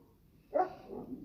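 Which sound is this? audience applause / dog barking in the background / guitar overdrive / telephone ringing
dog barking in the background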